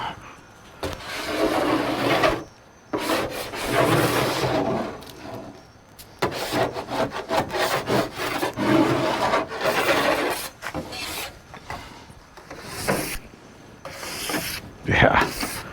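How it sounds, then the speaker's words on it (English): A paint scraper rasps over severely damaged car paint during a budget strip job, giving repeated loud scraping strokes with short pauses between bursts and no talk over it. "So where's my scraper?"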